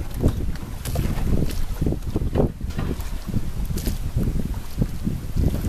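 A sailboat beating close to the wind on a southward course off the Connecticut shore, with a steady rush of wind and water washing continuously against the hull and loud wind buffeting the microphone throughout.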